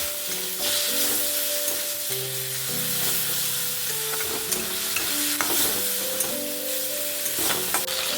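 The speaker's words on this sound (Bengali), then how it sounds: "এবারে মাছের তেলটাকে একটু ভালো মতন করে ভেজে নেব" Fish fat fries in hot oil with fried onions in a pan, sizzling steadily up close while a utensil stirs and scrapes it in repeated strokes.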